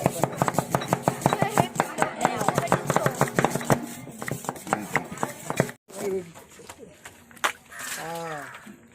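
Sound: onions being chopped with a knife

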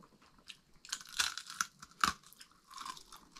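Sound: biting into crunchy roast potatoes

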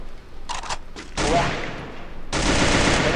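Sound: gunfire in video game Free Fire

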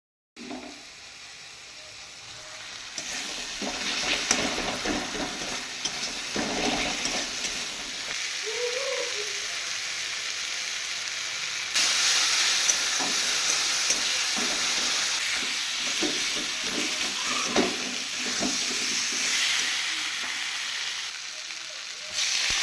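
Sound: eggs frying in a pan

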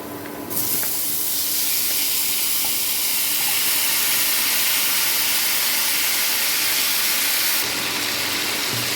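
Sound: marinated lentils added to fried garlic sizzling in pan

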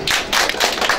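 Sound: applause during church service

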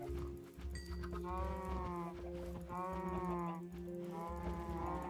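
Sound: sheep bleating in Minecraft video game

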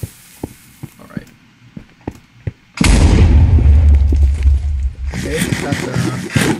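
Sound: explosion in the video game Minecraft

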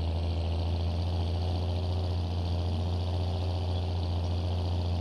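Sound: tractor engine in Farming Simulator 22 video game

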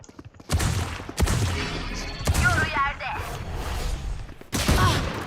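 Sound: gunfire in the video game Valorant

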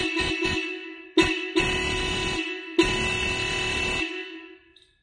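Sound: Hero Splendor motorcycle horn being tested after relay fix

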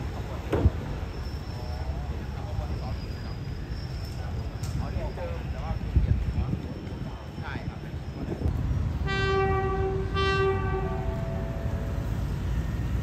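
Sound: locomotive 4308 arriving on track 3 at Bang Sue Junction

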